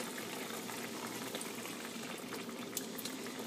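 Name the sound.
sauce poured in a circle into cooking mapo tofu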